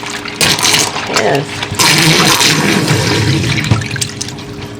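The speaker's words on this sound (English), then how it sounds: "I'm going to keep doing it with the warm water." Warm water runs into a sink while a Scrub Daddy sponge is soaked, a steady close wash of flow and splashing with a brief drain gurgle, heard under ongoing talk.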